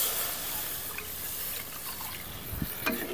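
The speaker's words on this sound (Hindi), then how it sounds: "अब मसाला में हम पानी डाल देते हैं।" Water poured into red, fried masala in a pan while cooking a barari fish curry, a steady wash of splashing and sizzling that runs throughout at moderate loudness, with brief louder splashes near the end.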